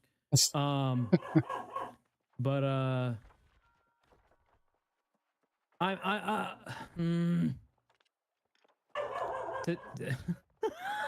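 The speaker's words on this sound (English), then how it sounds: "that's the dog." A dog barks and whimpers in several bursts of yips and whines, close and fairly loud, with people talking in between.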